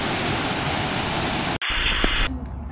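Waterfall in Karelia, a steady loud broadband rush of falling water that fills the first part, then drops away abruptly and gives way to other noise.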